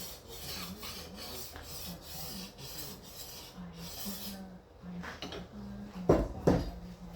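A large paper machine knife is rubbed flat against a sharpening stone in steady back-and-forth rasping strokes, quiet and close, with a couple of sharper scraping clunks near the end.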